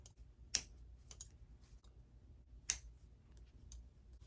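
Snips cut teeth off the bottom of a zipper, giving four sharp, quiet clicks spaced irregularly against a faint low background.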